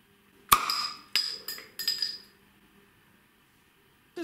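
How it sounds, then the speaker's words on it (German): A Valaisanne lager glass beer bottle is opened, giving a few sharp, ringing clinks of glass and cap in quick succession, then quiet with a final soft knock. "Seht mal, ob wir hier so ein bisschen Schweizer Sound beim Plopp erfahren können."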